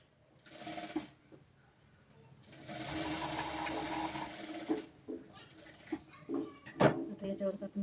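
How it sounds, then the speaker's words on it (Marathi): Sewing machine stitching a 32-size princess-cut blouse: two bursts of steady running stitch, the second longer, with handling clatter between and someone speaking quietly afterward. "अशा पद्धतीने दाबटीप मारून घ्यायची."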